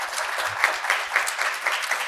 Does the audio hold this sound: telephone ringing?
no